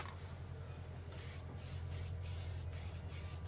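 A spray bottle mists water onto a paint brush in a few quick hissing bursts over steady low background hum, close by and fairly faint; the brush is being used with chalk-style paint on a silver-plated plate.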